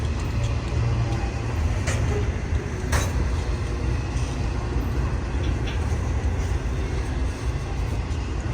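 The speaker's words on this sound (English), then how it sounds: "I believe that's Amtrak coming" Amtrak train approaching, a continuous heavy low rumble of rolling wheels and engine close by, with a few brief higher metallic squeals breaking through.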